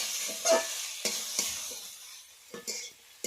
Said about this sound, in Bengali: ওর মধ্যে মাছের মুড়ো ভেজে রেখেছিলাম দিয়ে দেব। দিয়ে আবারও কিছুক্ষণ কষে নেব।